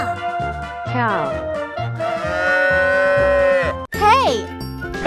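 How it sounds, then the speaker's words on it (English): A toy cow sound plays a long, drawn-out electronic moo over a jingly tune, loud and close, and then a short rising squeak follows. "Cow."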